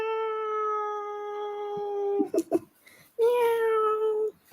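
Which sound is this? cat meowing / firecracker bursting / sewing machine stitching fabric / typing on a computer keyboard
cat meowing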